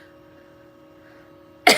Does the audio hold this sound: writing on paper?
no